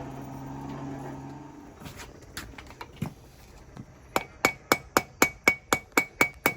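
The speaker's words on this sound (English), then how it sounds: "My little trim hammer out here and kind of work that point down just a little bit more." A small trim hammer strikes a hot steel knife blade being forged from scrap metal, first a few scattered blows, then a steady run of about ten sharp, ringing near strikes.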